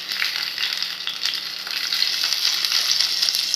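Onions, green chilies, curry leaves and tomato pieces sizzle steadily in hot oil in a pan, a close, continuous frying hiss with light crackles and no talking.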